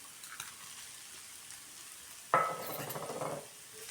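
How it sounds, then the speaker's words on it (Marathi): Crushed peanuts sauté with onion, garlic and chili over medium heat. A faint background hiss gives way to a sudden louder sizzle and scraping stir for about a second before it settles, with no voices. "परत मीडियम गॅसवरती 2 मिनिटं परतून घेऊ."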